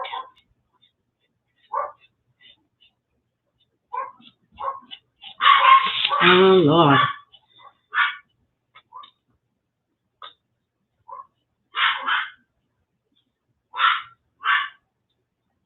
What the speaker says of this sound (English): the neighbor's pup is barking, making my pup bark.